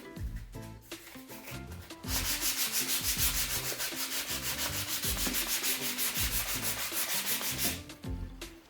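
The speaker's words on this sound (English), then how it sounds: "after just the first coat of paint, you need to take 220 grit" Hand sanding with 220 grit sandpaper over painted raw wood after a first coat, a steady rapid back-and-forth rasping scrub that runs loud and continuous through most of the stretch, with softer strokes at the start and end.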